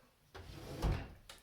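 A drawer on a used black dresser slides open with a low wooden rumble and a soft thud, quiet and close, with a faint knock just after.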